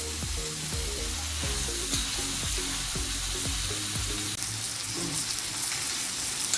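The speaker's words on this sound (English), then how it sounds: "it's called a stir fry because you have to keep stirring" Onions and green vegetables stir-frying in a pan, a steady broadband sizzle running throughout with repeated scraping knocks of a utensil stirring the food, loud and close with no talk.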